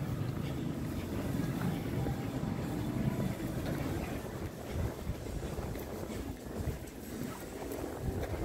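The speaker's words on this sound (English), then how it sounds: "A bit windy now, a bit chilly." Wind blows steadily outdoors on a chilly day, buffeting the microphone with a constant loud rumble and roar that never lets up.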